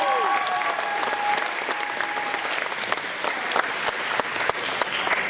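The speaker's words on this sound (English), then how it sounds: "Let's give her a round of applause" A crowd at a karate belt test in a dojo claps steadily, with sharp individual claps standing out close by over the dense applause and a brief tone early on.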